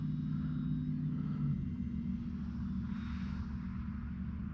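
E-flite RV-7 RC airplane coming in to land with no flaps, its electric motor and propeller giving a steady droning whine with a low rumble that holds throughout.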